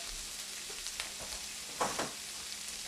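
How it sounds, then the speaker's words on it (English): Fresh ground garlic sautéing in a pan, a steady close sizzle and hiss with a couple of brief stirring scrapes partway through, no talk. "So let's get that sauteed up."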